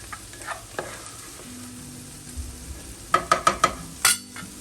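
Spam browning in a frying pan gives a low steady sizzle, broken by a few scattered scrapes and then a quick cluster of sharp metallic clinks and taps of a utensil against the pan.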